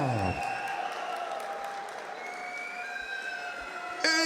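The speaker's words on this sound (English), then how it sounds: "So give me some noise from the crowd." At a boxing event, the crowd roars and cheers in a sustained wash of noise while high siren-like tones and horns wail over it, ending with a sharp burst.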